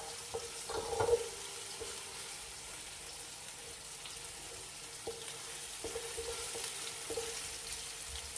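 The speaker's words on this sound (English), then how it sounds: "Stirring my oil until I see it browning. My onion, sorry." Onion browning in oil in a pan while being stirred, a faint steady sizzle with a few soft clinks and scrapes of the spoon.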